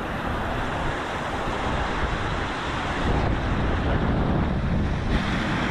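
Rushing river water pours down in wild weather in the Brecon Beacons, a steady loud broadband roar with wind buffeting the microphone and no voices.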